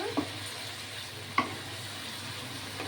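Chicken for garlic chicken stirred and sautéed in a pan, with a faint steady sizzle and two brief scraping clinks of the spatula against the pan.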